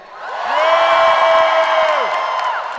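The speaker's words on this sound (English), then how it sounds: "Cheer if you don't think that's okay" A comedy show audience cheering and whooping, swelling into a loud sustained crowd roar with shrill voices, then tapering off.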